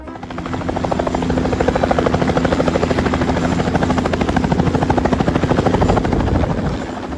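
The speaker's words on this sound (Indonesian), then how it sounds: "Helikopter." A toy helicopter's rotor chops in a fast, steady rhythm, loud and close, holding constant for several seconds before easing slightly at the end.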